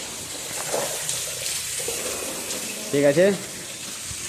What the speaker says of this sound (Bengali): দেখো আমরা এখানে জল মারছি। জল মারলে প্লাস্টারটা ভালো হয়।